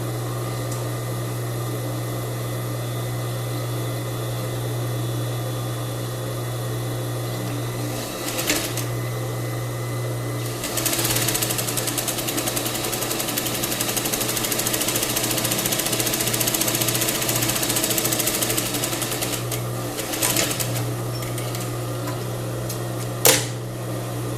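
Sewing machine running a fine rolled hem on crepe blouse fabric, a steady mechanical hum with a low motor tone, stopping briefly and restarting a couple of times, with a faint click near the end.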